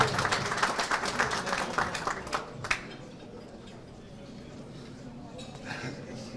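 An audience applauds at a ceremony opening a Bursa tradesmen's association registry office, with a burst of clapping that fades after about three seconds into a quiet room hum.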